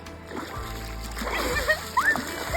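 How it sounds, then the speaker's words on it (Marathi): Water splashed by hand in a river while washing clothes, soft sloshing and splashes up close under steady background, with a couple of brighter splashes near the end and people's voices present. "तर पाणी उडव ना असं"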